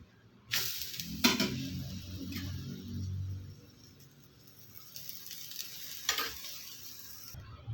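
A vegetable omelette fries in a pan with a steady, moderate sizzle, broken by a few sharp scraping and clattering strokes as it is turned, with no one speaking.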